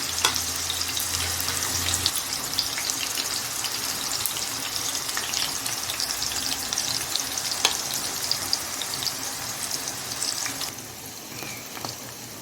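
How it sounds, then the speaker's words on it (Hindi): Chicken cheese Turkish kebabs fry in oil in a pan, sizzling and crackling continuously with scattered pops and some light stirring, close and fairly loud throughout. "तो हमारे एक साइड से अच्छे से फ्राई हो चुके हैं।"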